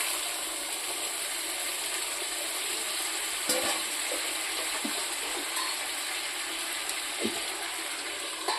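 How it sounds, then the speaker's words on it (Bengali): A splash of water poured down the side of a hot frying pan sets off a continuous, close sizzle and hiss, with a few small clicks and pops scattered through, and no voices. "একটু জল দিয়ে দেবো সাইড দিয়ে।"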